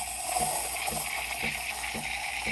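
Steam wand of a Breville espresso machine aerating milk, a steady hiss with a papery tearing edge that stays continuous and fairly loud, with faint rhythmic pulses underneath.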